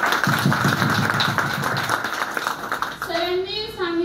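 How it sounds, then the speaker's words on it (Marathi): Audience clapping in thanks at a celebration event, rhythmic claps under a voice and other talking, with a voice continuing clearly near the end. "त्यांच्यासाठी एकदा जोरदार टाळ्या."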